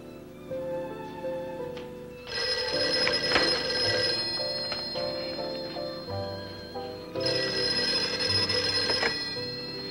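An old-fashioned telephone bell rings in two long bursts separated by a pause, loud and close, with no talk.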